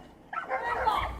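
Dogs bark and yip in a brief burst, somewhat muffled as though from another room, with speech faintly mixed in.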